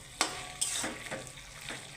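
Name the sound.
stirring eggplant frying in a pan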